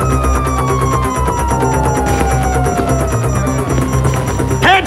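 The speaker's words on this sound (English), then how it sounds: "you hear that? Sirens!" Police sirens in GTA V wail with slowly falling tones over a dense, busy background of engine rumble and game noise, fairly loud throughout.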